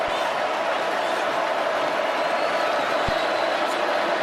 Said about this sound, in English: Georgia crowd still making some pretty good noise in here.